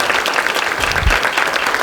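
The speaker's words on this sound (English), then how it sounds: "Let's give her a big round of applause." A lecture audience breaks into loud, close, full applause. Dense overlapping clapping fills the room without pause, with no voices standing out.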